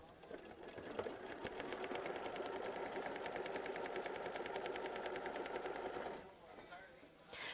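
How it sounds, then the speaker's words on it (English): Sewing machine stitching to tack down a fabric strip, a fast steady mechanical rattle running for about six seconds before stopping, close and continuous, with faint background sound after. "We're going to hit start and we're going to sew machine stitch step 20"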